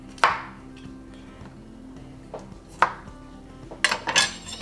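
Knife cutting through food on a board while prepping teriyaki chicken kebabs: four or five sharp, separate taps and clacks spaced irregularly over a low kitchen hum, with a quick double hit near the end.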